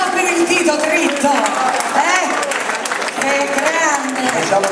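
Audience clapping at a dance gala with an orchestra, steady applause mixed with crowd murmur and voices talking over it, close and fairly loud throughout.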